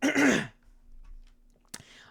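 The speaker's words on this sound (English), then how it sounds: "Let me clear my throat real quick, sorry guys." A single gruff throat clearing close to the mic, then near silence with a faint hum and a brief sharp noise at the end.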